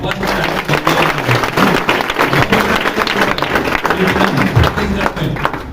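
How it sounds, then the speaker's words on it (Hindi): Loud, dense clapping from an audience at a motivational business success event, sustained throughout with crowd noise and some voices under it. "एक बार जोरदार ताली"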